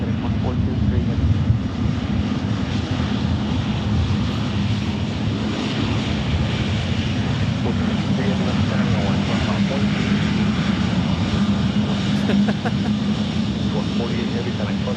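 Jet blast from a departing FedEx heavy jet at Memphis International Airport, a loud, continuous low roar and rumble from the engines, with radio voices and talk heard over it.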